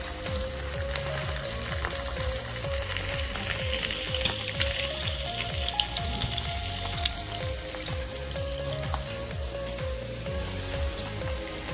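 Fish pieces frying in oil for a Marathi fish pickle, a steady dense sizzle and crackle that runs unbroken and fairly close throughout, with no voices.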